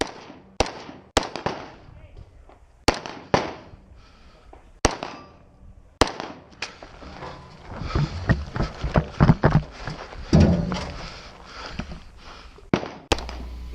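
Sharp gunshots at targets in a two-gun action match, widely spaced single cracks at first, then a denser run of rapid shots, moderately distant and echoing outdoors.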